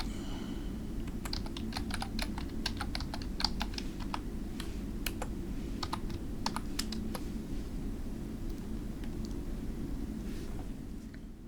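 An email address is typed on a computer keyboard as a quick, uneven series of soft key clicks over a low, steady background hum.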